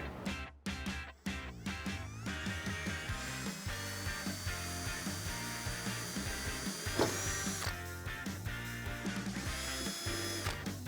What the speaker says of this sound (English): Now what we're gonna do is drill a pilot hole.